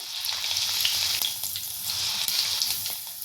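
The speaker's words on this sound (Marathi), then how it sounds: "ह्या थोड्याशा तेलावर अशा मी फ्राय करून घेते" Garlic cloves fry in a little oil for vada pav chutney, giving a soft, steady sizzle that runs close and unbroken for a few seconds with no voices.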